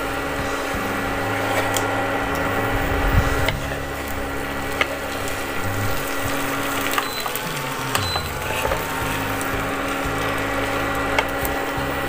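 Rice for veg fried rice is sautéed and stirred in a pan, with scraping, clattering utensil strokes and faint sizzling that carry on steadily, louder near the start, with no talk.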